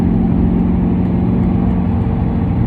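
A Lamborghini Gallardo engine holds a steady, loud low rumble with a deep, even drone throughout, close by and alone without any talk.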